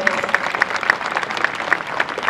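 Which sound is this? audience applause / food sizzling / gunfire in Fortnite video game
audience applause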